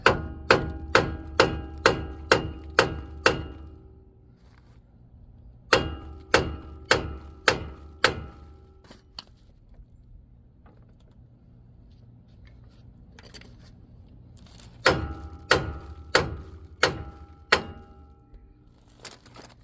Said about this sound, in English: we'll hammer it out and separate it with a crowbar